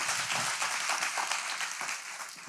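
A congregation applauds at a church service in Miami, steady dense clapping filling the whole moment at moderate level without a break.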